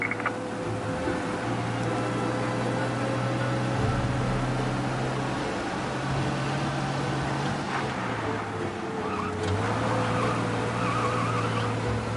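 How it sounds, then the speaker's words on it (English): A car driven fast in Mafia Definitive Edition on PS5, a steady loud engine drone with shifting pitch as it accelerates, occasional tire noise, and no talk. "We lose them by driving real fast and getting clear of them."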